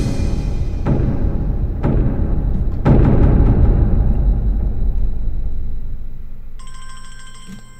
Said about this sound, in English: I just need to mute my phone.